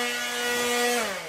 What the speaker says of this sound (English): Literally, he's sanding this floor